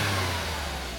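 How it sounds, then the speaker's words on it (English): A 2005 Suzuki Carry 4WD kei truck's mid-mounted engine hums in a brief steady rev, close and fairly loud, with no voices. "so I'll just give you a little rev so you can hear."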